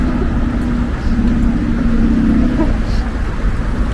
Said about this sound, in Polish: nie ma sensu teraz, bo jest głośno, auta jeżdżą